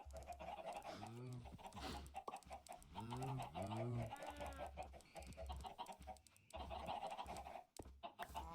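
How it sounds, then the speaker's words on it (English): Many chickens in the game Minecraft clucking, repeated short rising and falling clucks in quick bursts, faint and layered over one another like a crowded pen. "I'm not really sure how I got this many chickens otherwise."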